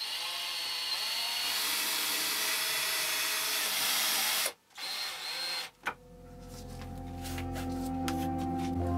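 Self-tapping screws driven into a wooden board with a power screwdriver, a continuous close whirring grind for several seconds that cuts off, followed by short bursts and a lighter rattling tail.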